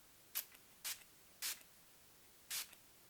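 Four short hissing spritzes of Urban Decay Quick Fix setting spray onto a makeup brush, spaced unevenly, close and fairly quiet in an otherwise silent room.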